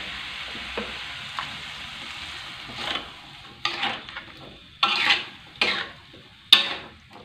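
Potatoes sizzling in a frying pan as water is poured in, a steady soft hiss broken by several louder bursts of spitting and sizzling that rise and fade, close by and with no talk.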